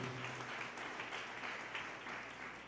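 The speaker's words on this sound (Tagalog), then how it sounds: "Pumalakpak ng malakas sa ating Diyos." A church congregation at a JMCIM service in San Carlos City, Pangasinan claps loudly together, a thick continuous wash of hands with faint musical tones beneath.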